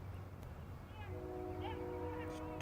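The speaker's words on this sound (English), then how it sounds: "train horns," A distant train horn sounds faintly in an outdoor setting, a couple of sustained tonal blasts rising over a low rumbling background in the second half.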